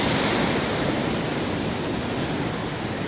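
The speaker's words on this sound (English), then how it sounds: "We got some big waves out here today." Big ocean surf breaks continuously along a Hawaiian resort shoreline, a loud, dense wash of crashing water and spray filling the whole stretch without pause.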